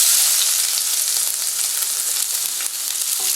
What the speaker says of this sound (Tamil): இப்போ உடனே வெங்காயம் போட்டுடலாம்.